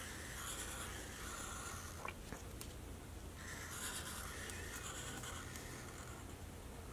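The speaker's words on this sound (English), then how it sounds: "you're going to draw wavy lines from the line you drew to the fold of the paper" Pencil sketching wavy lines across paper for a kids' paper weave flag craft: a soft, steady scratchy rubbing that runs almost continuously, close and quiet, with no talking.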